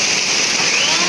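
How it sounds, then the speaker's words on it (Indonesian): Sudden heavy rain pours down in a dense, steady hiss with no letup, loud and close throughout. "soalnya kan hujannya deras, tiba-tiba hujan deras teman."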